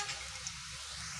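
Onions frying in oil in a pan until browned, for cauliflower chops: a steady, close sizzle with a continuous crackling hiss and no voices.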